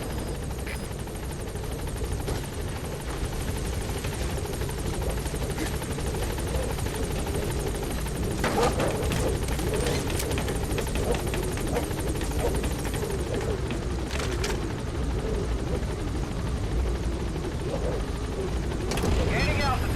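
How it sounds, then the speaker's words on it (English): Pequod, the helicopter from Metal Gear Solid V: The Phantom Pain, lifts off with a loud, steady rotor drone that swells in waves and holds throughout, with radio-style voices over it. "Let's go to the ACC helicopter."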